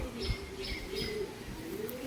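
Pigeons of a flying breed coo softly and repeatedly near the listener, with a few faint higher chirps over a quiet background.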